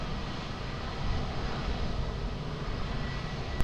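Jet airliner on its takeoff roll at Lisbon Airport, a loud, steady broadband engine roar filling the whole stretch without a break.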